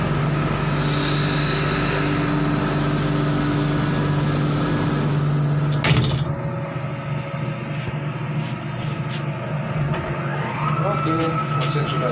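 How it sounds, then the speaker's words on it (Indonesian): A heavy engine of a 40-ton MacGregor crane drones loudly and steadily, then an abrupt clunk cuts in and the machine keeps running at a lower, rougher rumble. "Oke, mesin sudah nyala."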